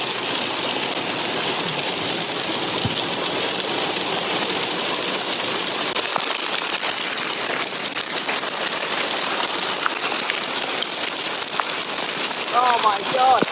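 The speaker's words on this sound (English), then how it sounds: "I'm just shouting over this torrential hail. I mean, this hail is serious." Torrential hail pours down on a UK summer day, a dense, steady roar of hard pellets striking surfaces that stays loud and close throughout, with a voice speaking over it.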